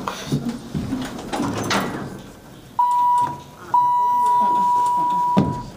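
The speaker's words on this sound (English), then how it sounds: "it's a basic Dover pull-less elevator" Doors of a 1999 Dover hydraulic elevator in an office building rumble and slide, followed by a sustained electronic chime tone that sounds briefly, pauses, then holds for nearly two seconds, with people talking nearby.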